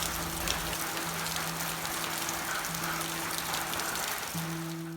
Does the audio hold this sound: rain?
yes